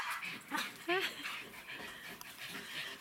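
One of several household dogs whimpers and pants in short, close yelps, mixed in with quiet rustling.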